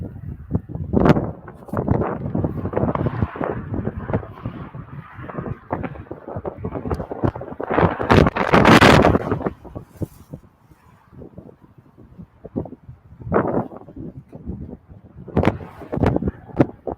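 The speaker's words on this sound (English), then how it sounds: "the wind is horrendous" Strong gusts of wind buffet the microphone in loud, irregular rumbling bursts, easing briefly before surging again.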